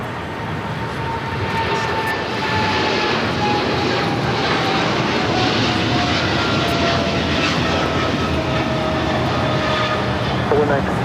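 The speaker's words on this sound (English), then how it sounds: "This is DHL, operated by Polar Air Cargo 962, taking off to Cincinnati on a 777 freighter." A Boeing 777 freighter run by Polar Air Cargo for DHL takes off at LAX, its jet engines giving a loud, steady broadband roar that builds slightly and holds, with radio chatter faintly underneath.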